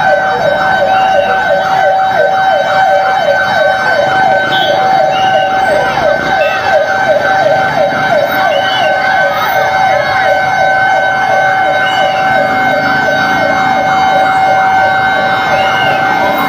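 Fire truck sirens at a house fire in Pasig City wail steadily and loudly, a rapid warbling pattern running the whole time with layered horn tones and traffic rumble beneath.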